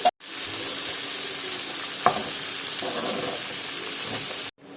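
Sliced onions sauté in hot oil for pepper chicken and are stirred until golden brown. A loud, continuous sizzle carries brief stirring scrapes, and the sound cuts off abruptly at the end.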